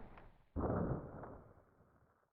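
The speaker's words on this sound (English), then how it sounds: "Why do we hear an explosion when I won?" A single explosion sound effect from a web video game, one sudden muffled boom that swells and then fades away over a couple of seconds.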